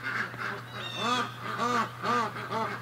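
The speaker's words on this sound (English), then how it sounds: "And that third goose is always with the pair." Several geese honk in a close, repeated series of harsh nasal calls, a few bursts close together over a steady low hum, with a small group of three birds kept near a pair at a duck-keeping homestead.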